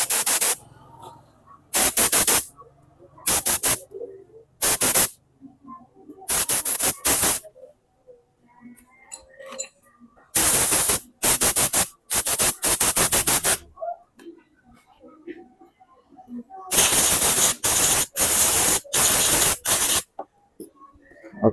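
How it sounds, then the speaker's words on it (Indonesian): An air compressor nozzle blasts air over a Suzuki Spin 125 carburetor during cleaning, in about a dozen loud hissing bursts of one to two seconds, separated by near silence, with brief faint handling noises between. "kemudian tinggal kita semprot pakai kompresor"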